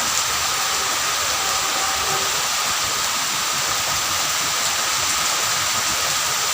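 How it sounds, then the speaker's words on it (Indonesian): Heavy rain pours down in a dense, constant roar of broadband hiss that holds evenly throughout, with no voices on top. "Hujan deras lur."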